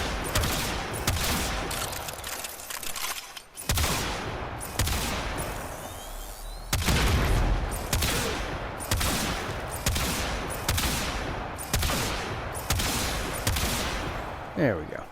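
Repeated bursts of rapid gunfire from a kitgun primary weapon in Warframe, sharp rattling volleys with short pauses between them, a voice talking over the shooting.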